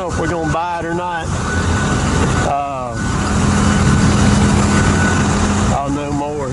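A Tigercat 830 forestry machine idles outdoors with a steady, loud engine drone that runs through the whole stretch, while voices talk over it at several points.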